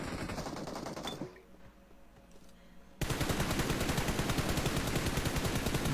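Rapid automatic gunfire from PUBG Mobile rattles loudly, breaks off into a brief quieter lull, then resumes as a dense, sustained burst of shots.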